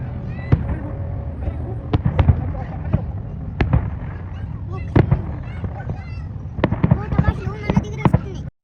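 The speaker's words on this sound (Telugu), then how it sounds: "ఇక డ్రోన్ షో అయిపోయాక క్రాకర్స్ అయితే స్టార్ట్ చేసేసారు." Fireworks after a drone show at the Liwa Festival in the Abu Dhabi desert crack and pop in scattered bursts, some sharp and close, others more distant, over a steady crowd murmur.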